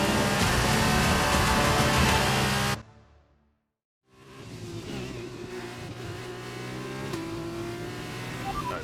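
Race cars in the F1 2021 game roar at high revs, loud and continuous, then the sound cuts briefly to near silence before engine noise rises again and carries on steadily.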